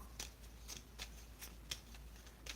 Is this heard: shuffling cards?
yes